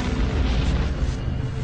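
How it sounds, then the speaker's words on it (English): A colossal explosion standing in for the Big Bang at the birth of the universe: a loud, sustained, rumbling blast with heavy low-end roar that fills the whole clip without pause. "it's thought our universe started with a colossal explosion called the Big Bang"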